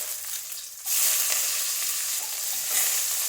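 Crushed skin-on garlic and curry leaves frying in hot oil for a rasam, with a fairly quiet hiss that jumps into a loud, steady sizzle about a second in and then continues close by without talk.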